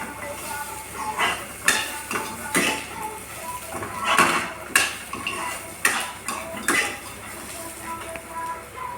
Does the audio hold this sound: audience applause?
no